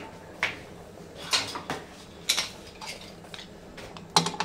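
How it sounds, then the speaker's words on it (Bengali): A pressure cooker holding beef biryani with spices, milk, yogurt and sauce is fitted and set on a home stove. Several sharp metallic clinks and knocks come at irregular intervals against a quiet kitchen background, with no talk. "এখন প্রেশার কুকারটা লাগাইয়ে দিই।"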